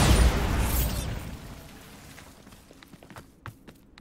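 A spell-cast explosion in a fantasy game bursts loudly with a broad, rumbling blast, then dies away into a long, fading tail. Scattered small clicks and pops follow near the end.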